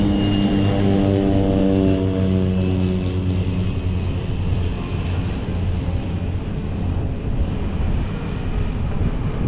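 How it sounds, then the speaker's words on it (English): A float plane drones overhead near the Narrows approaching Ketchikan, Alaska, its propeller engine a loud, steady hum with sustained tonal layers that fade slightly as it passes. "Float plane flying over."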